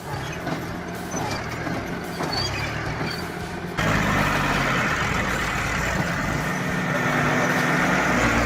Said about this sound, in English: This is a gripping tree-pulling scene where driving skill and brute force unite.